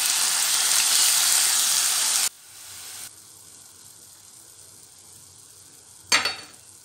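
Onion paste sizzling in a hot frying pan while cooking chana curry, a loud steady hiss for about two seconds that drops to a quieter sizzle, with a brief sharp stirring burst near the end.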